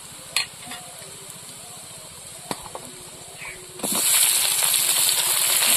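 Vegetables drop into a hot pan with onion and garlic, the quiet stirring suddenly bursting into a loud, bright, continuous sizzle that carries on to the end.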